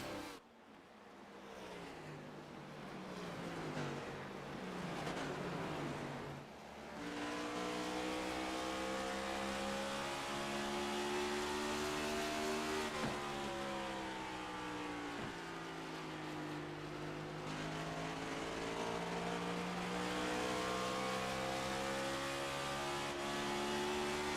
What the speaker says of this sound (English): Top 6 all racing hard for position.